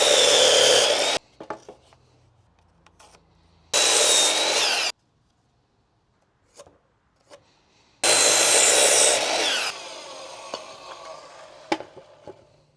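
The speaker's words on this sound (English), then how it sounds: "Just finished cutting the 2x4s to 30 inches and 1/8 inches." A power saw cuts through 2x4 lumber boards for a garage storage rack in three loud bursts of whining, rasping sawing, separated by quieter pauses with small knocks and handling of wood.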